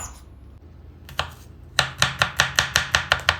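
Knife chopping garlic finely on a board: a single chop, then a steady run of about nine crisp, evenly spaced cuts, close and fairly loud, with no talk.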